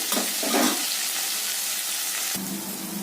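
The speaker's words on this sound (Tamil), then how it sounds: "இது வந்து நல்லா வதங்கணும்." Pirandai (adamant creeper) sautéing in a pan gives a steady, close, dense sizzle. It shifts briefly in tone near the end as the contents are stirred, and no voices are heard.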